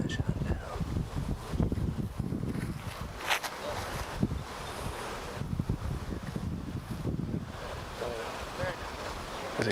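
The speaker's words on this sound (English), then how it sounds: "Winds are swirling at the moment." Swirling wind buffets an outdoor disc golf course at a professional world championship, a steady roaring gust noise with rumbling microphone buffeting and faint background voices throughout.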